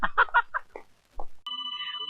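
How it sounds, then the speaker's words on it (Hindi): A mobile phone rings with a steady repeating electronic tone, loud and close, following a few spoken words in a comedy scene. "ये दिल की घंटी नहीं, मोबाइल की घंटी है"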